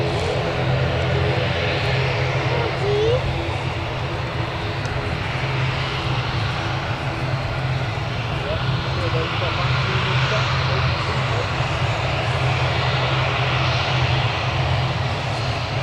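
Aircraft engine drones steadily while a plane taxis at Newcastle Airport, a constant low rumble with a broad airy hiss lasting throughout, with a voice talking faintly underneath.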